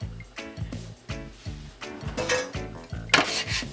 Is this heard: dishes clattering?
yes